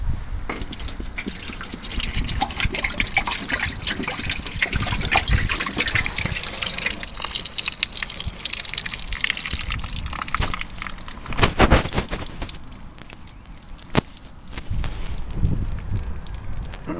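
Water pours out through the door drain of a Seat Leon during a door repair, a loud continuous gush that stops abruptly partway through, followed by scattered drips and splashes.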